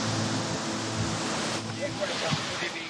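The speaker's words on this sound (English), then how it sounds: "the danger of the powerful swell pushing deep from the Indian Ocean" Powerful ocean surf rolls in at Kuta beach in Bali, swell from the Indian Ocean, as a constant loud broadband roar of breaking waves with wind noise on the microphone.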